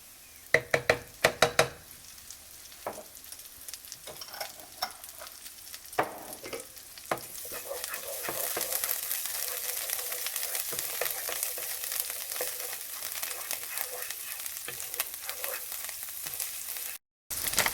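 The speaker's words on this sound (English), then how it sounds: "She's just going to saute those onions in the butter and the olive oil." Onions saute in butter and olive oil in a skillet: a few sharp utensil taps open, then a steady close sizzle builds and holds with light stirring scrapes, cutting out briefly near the end.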